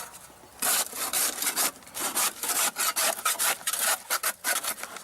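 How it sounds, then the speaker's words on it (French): Asparagus spears being cut with a scythe blade to a set length in a Sologne field, giving a run of dry rasping, scraping strokes in quick irregular bursts, close and fairly loud with no talking. "on découpe avec une faux, hein, pour que ça soit bien coupé à 22 cm"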